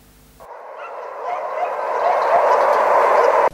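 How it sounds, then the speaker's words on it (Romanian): Many dogs barking and yelping together at a municipal dog shelter housing about 400 dogs, a dense overlapping chorus that swells louder after a brief quiet start and stays continuous. "sunt aproximativ 400 de câini preluați de pe raza orașului"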